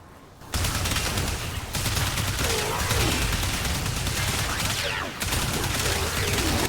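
Rapid automatic shotgun fire in Warframe, a fast, continuous stream of loud blasts that starts abruptly, briefly dips once and then keeps hammering away, with a faint voice mixed beneath the shots.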